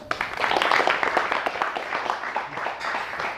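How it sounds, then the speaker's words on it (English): An audience at a motivational lecture applauding, a steady dense wash of clapping that holds for several seconds at moderate, even loudness with no voices over it. "Give him a big round of applause."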